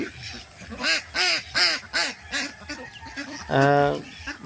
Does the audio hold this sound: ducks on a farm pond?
yes